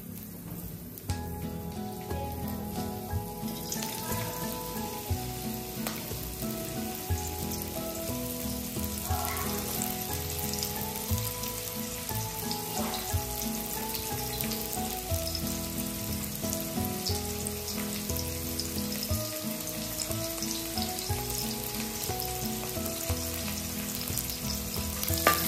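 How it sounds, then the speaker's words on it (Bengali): Carrots frying in hot oil at a village picnic, a steady dense sizzle that stays loud and even throughout, with occasional stirring scrapes and no talking. "আমরা এখন গাজরগুলো ফ্রাই করে নেব।"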